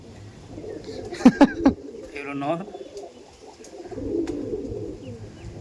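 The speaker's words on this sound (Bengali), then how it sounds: "এটা নর পায়রা, এটা মাদি পায়রা" Male and female Andhra tournament-flying pigeons coo faintly nearby, with a brief flurry of louder sounds and someone talking over them.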